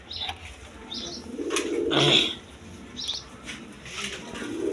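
Pigeons offered for sale, including a hen and a cock, coo in low repeated phrases at close range, with brief chirps and a flutter of wings mixed into a steady background.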